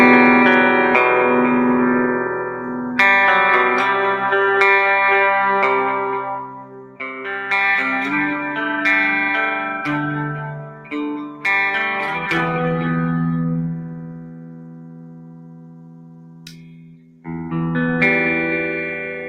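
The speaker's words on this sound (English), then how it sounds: "Let me give you a little bit of the bridge with some distortion, just so you can hear it." An electric guitar played on its bridge pickup through heavy distortion rings out in loud sustained chords and ringing notes, with short gaps between phrases and no talking.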